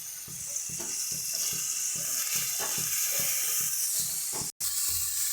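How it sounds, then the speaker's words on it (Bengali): Prawns coated with turmeric and salt fry in hot oil, a bright, continuous sizzle broken by rhythmic scraping stirs, close and loud, with a short dropout near the end and no talking. "ভালো করে আমরা মাছটাকে ভেজে নেব"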